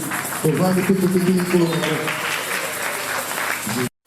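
A church congregation applauds steadily, a dense continuous clapping that fills the room, with voices mixed underneath and a brief cutoff near the end.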